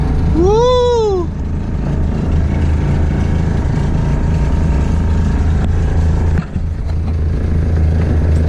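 A freshly painted car's engine idles with a steady low rumble close by, preceded by a brief rising-and-falling whistle-like tone at the start and a short knock near the end.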